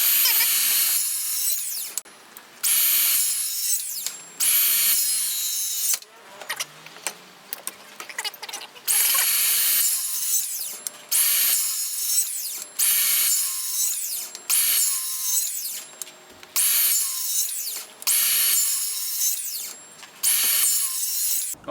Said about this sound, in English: now we're going to make a series of small cuts